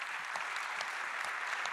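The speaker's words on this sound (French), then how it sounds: "On peut l'applaudir, Olivier Schiller." Audience applause at a round table discussion on family businesses, a steady dense patter of many hands clapping throughout, moderately loud with no talking over it.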